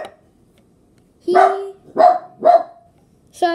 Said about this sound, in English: Sorry about my dog. That's just my dog.